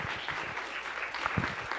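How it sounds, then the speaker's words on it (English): Audience at a Martin Luther King Jr. Day of Service event gives a round of applause, a soft, steady wash of distant clapping with a few low murmurs. "So please give her a round of applause when she comes up here"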